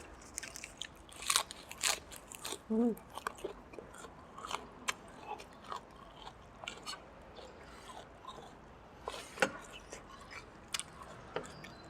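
Crispy potato crackers are bitten and crunched close up, with several sharp crackling bites and steady chewing in a quiet setting, served alongside small rice noodle soup with pork and fried garlic.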